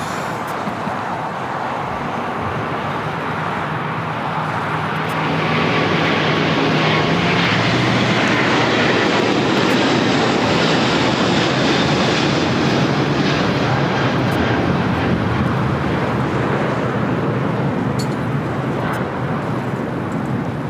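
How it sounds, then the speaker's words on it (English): A Korean Air Airbus A380 superjumbo taking off from LAX, its engines swelling from a rolling roar to a loud sustained thunder that holds steady and then begins to fade slightly, no voices heard. "this is Korean Air Flight 18 Super taking off to Seoul on the A380"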